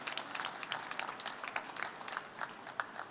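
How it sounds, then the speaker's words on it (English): An audience at a Babson College pitch competition finale gives the judges a round of applause: a quiet, fairly distant wash of many hands clapping, with individual claps poking through as it gradually thins out. "So give a huge round of applause for our judges here."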